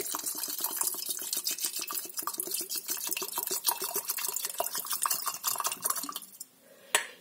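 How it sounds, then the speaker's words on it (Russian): Water pours from a small watering can into a container to dilute an alcohol tincture one to one. It makes a quick, continuous splashing, gurgling trickle that stops abruptly near the end, followed by a short clink. "Наливаю водички столько же, сколько я взяла из спирта"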